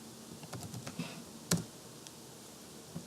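Quick bursts of computer keyboard typing as commands are entered, a run of soft clicks followed by one sharper key strike and a faint later tap, close and quiet with no talk.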